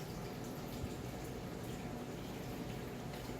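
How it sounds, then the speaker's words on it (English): A cat's water fountain runs in the background, giving a steady, soft trickle of water at low level with no talk over it. "I'm sorry if you can hear the water, my cat's water thing in the background."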